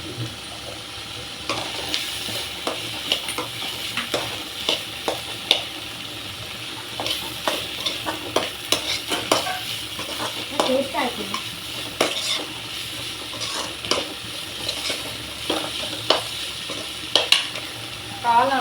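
Onions sautéing in a pan for mushroom gravy, a continuous close sizzle with frequent scraping and clattering stirs of a spatula against the pan throughout.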